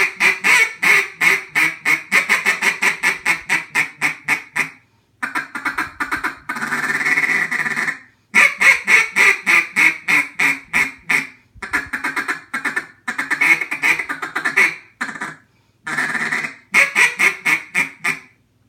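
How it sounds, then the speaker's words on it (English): A hand-blown duck call runs through a practice cadence of rapid quack strings, a long comeback sequence and a feed call with a quack worked in, loud and close with brief pauses between phrases. "It's just a quack, comeback call, quack, and then she does a feed call with a quack into it"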